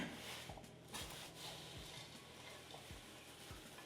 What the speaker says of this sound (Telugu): ఈ పసుపు ఉంది కదా, మొత్తం అటుకులకి పట్టాలి, అంతవరకు ఇలా కలుపుతూనే ఉండాలి